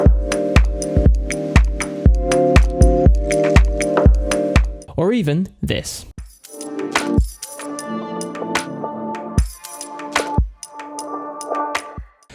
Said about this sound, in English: how I created those organic sounding drum sounds from scratch